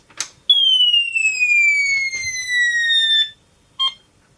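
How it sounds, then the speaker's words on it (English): A 1980s MB Electronic Battleship game gives a long electronic beep that slides slowly downward in pitch, framed by short clicks and followed by a brief second beep. "it's making beeping noises"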